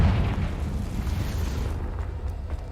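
A Confringo blasting spell goes off in the video game Hogwarts Legacy, a deep rumbling boom that rolls on and slowly fades over a few seconds.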